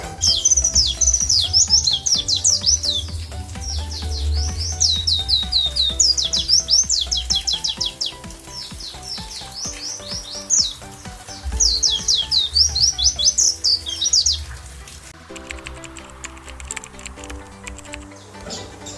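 A small white-eye sings rapid, high, twittering phrases in long bursts, loud and close, with short pauses, over a soft low background rumble.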